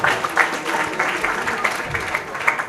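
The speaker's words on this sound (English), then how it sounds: "Clap now, guys" Students in a school group clap together, a lively continuous patter of many hands close by, with faint voices mixed in.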